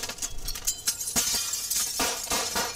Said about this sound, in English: So they break the window open,